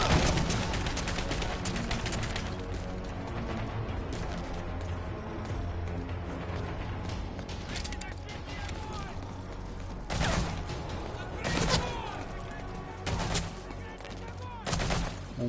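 Gunfire in Metal Gear Solid V comes as scattered bursts of game shots over a dense background of game noise, with several louder shots toward the end.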